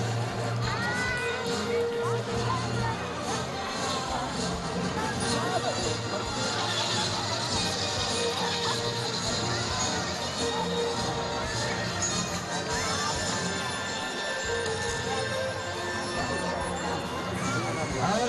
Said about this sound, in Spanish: los aplausos del público presente